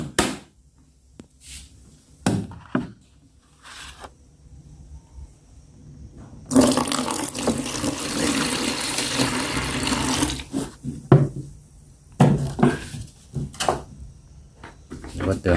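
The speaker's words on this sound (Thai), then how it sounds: "น้ำให้เต็มถังครับ" Water gushes into a bucket for fermented Hom Thong banana fertilizer at a garden pit, a loud steady rush of about four seconds, with someone talking before and after.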